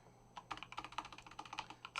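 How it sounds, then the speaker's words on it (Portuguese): Quick typing on a computer keyboard while entering a chmod command in a terminal: a fast, uneven run of close, light key clicks, fairly quiet, with no voice. "se eu digitar aqui um chmod"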